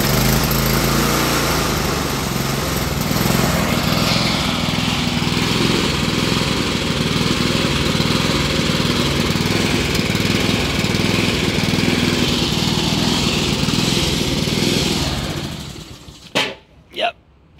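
A Honda HRT216 lawn mower engine, nearly out of gas, drones steadily and loud at close range, then sputters and cuts out near the end, followed by a couple of brief bangs.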